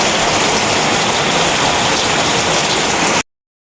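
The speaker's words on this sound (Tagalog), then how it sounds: "Guys, sobrang lakas po dito ng ulan." Heavy rain pours steadily in a dense, loud, unbroken hiss, then cuts off abruptly near the end.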